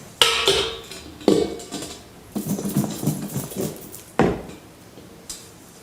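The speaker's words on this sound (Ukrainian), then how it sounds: "Висипаємо капусту та перемішуємо." Cauliflower is stirred into a batter of milk, flour, salt and paprika in a bowl, giving several sharp clinks and thuds followed by wet, uneven mixing sounds, close and alone.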